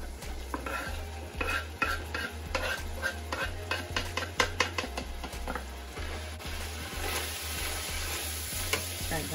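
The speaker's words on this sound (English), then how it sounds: "so we're gonna add the onions." Onions sizzle loudly in a pan while a utensil stirs and scrapes them in quick, irregular strokes, with a steady low hum running beneath the frying.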